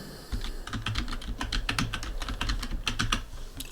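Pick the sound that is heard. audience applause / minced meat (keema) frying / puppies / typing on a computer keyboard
typing on a computer keyboard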